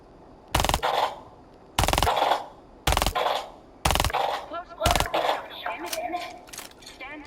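Five sharp, loud suppressed gunshot bursts in the Rainbow Six video game, evenly spaced about a second apart, followed by softer clinks, shuffling and background game noise.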